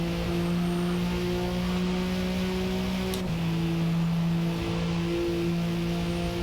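A race car engine in Forza Motorsport, running on race tyres, drones steadily and loudly with a sustained, nearly constant pitch and only a slight shift midway, close and continuous with no talk over it.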